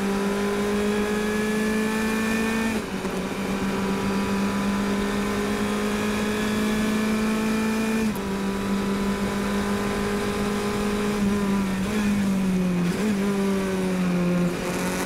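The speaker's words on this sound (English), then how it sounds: "Downshifts are sounding a lot better than they were in Virginia." A race car engine at a 2017 Pittsburgh Fire & Ice Majors race drones loudly and steadily, with its pitch dropping at several points as it downshifts, and no talking.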